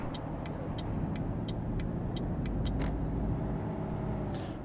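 Cars roll off a docked ferry in the Euro Truck Simulator 2 game, a steady low engine rumble with a regular series of short ticking beeps, ending in a brief hiss, no voices heard.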